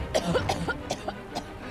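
A character in the Forspoken video game coughs repeatedly, a run of short, rough hacking bursts at an uneven rhythm, fairly close and with no one talking over them.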